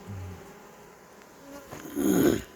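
Honeybee drones buzz around an open beehive during a beekeeper's inspection, a soft, wavering hum close by that swells louder near the end as a bee passes near, with no talking.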